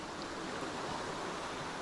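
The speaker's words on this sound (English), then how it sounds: "the fact it's raining while I'm stood in the middle of a waterfall" A waterfall and stream on the Isle of Skye in falling rain make a dense, continuous rushing roar, close and steady throughout the short stretch with no voices.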